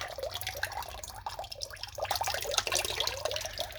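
Water draining out of a container of homemade sorghum molasses: a continuous close trickle and splash, steady and fairly quiet, running alone for a few seconds.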